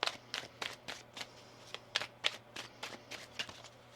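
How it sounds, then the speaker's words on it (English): Tarot cards being shuffled in a quick series of crisp riffling flutters, close and fairly quiet, with brief pauses between bursts. "One more shuffle here."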